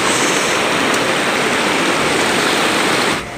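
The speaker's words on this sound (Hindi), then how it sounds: "इतना ठंडा पानी बर्फों से निकल के आ रहा है" Icy snowmelt river on a Mandani Valley trek in Uttarakhand, a loud, steady, close rush of flowing water that fills the whole clip without a break before easing off at the very end, no voices.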